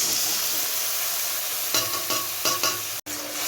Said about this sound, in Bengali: এইটাকে এবার ভালো করে কষাবো যতক্ষণ না এর মধ্যে থেকে তেল ছাড়বে